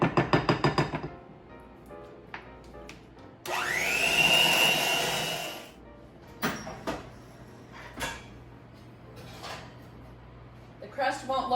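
An electric mixer whirs in a bowl of sweet potato pie filling for about two seconds, a loud steady buzz, with scraping, knocks and clatter from the bowl before and after.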